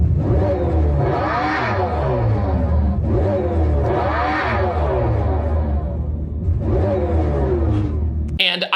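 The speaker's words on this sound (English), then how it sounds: "It's so weird to hear an electric vehicle make sound that isn't super manufactured, right?" A 2024 Dodge Charger Daytona electric car driving, its synthetic engine-like sound swelling and falling in repeated revving waves, loud and continuous, with a voice talking over it.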